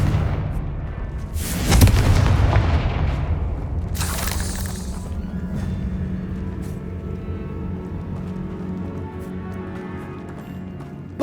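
Spell blasts from Confringo and Bombarda in Hogwarts Legacy, two loud booming explosions a couple of seconds apart, each with crackling debris, followed by a lingering low rumble fading under ambient game sound.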